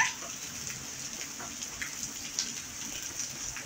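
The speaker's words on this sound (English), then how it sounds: "You like playing in the rain?" Steady rain patters and hisses on a surface, with scattered louder drops spread across the whole span.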